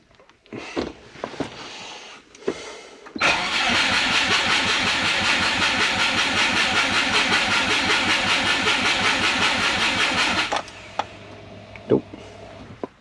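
A turbocharged Subaru engine cranks for about seven seconds with a loud, rapid, even starter churn that never catches, followed by a few clicks and some quiet handling noise.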